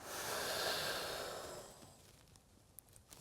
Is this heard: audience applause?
no